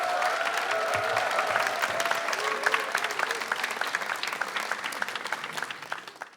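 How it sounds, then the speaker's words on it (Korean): Audience applause greeting a classics critic taking the stage at a televised lecture, many hands clapping steadily with a faint tonal sound over it, tapering off at the end. "큰 박수 부탁드립니다"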